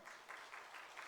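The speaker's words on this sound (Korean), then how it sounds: "감사의 박수로 하나님께 영광 돌리겠습니다." A church congregation gives a round of thankful applause during a Korean New Year dawn prayer service, a dense, even patter of many hands clapping at a distance.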